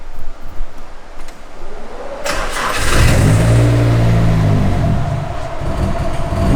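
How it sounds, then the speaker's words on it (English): A Nissan SR20DET engine in a Z32 is cold-started without any throttle: quiet at first, then the starter kicks in abruptly and a loud, close, sustained engine drone takes over. "let's see if this thing will cold start without any pedal work"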